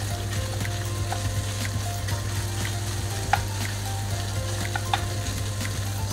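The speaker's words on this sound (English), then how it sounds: "Fry the minced pork first. And fry one side first." Minced pork sizzles steadily in hot oil in a wok, a constant close frying hiss with occasional soft clicks of stirring and a low steady hum beneath, no talk.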